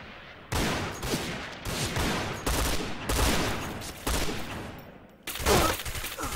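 Rapid automatic fire from a P90 in the shooter Point Blank on a desert map, loud close bursts with brief pauses, one burst after another, and no talk.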